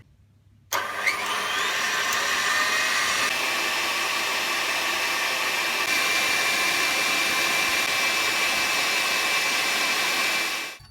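An electric stand mixer whips egg whites to firm peaks for almond bread, starting abruptly and running as a loud, steady whirring drone for about ten seconds before cutting off.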